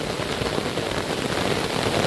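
Heavy rain hisses steadily and loudly by a river, a dense, unbroken patter close by, with no voices.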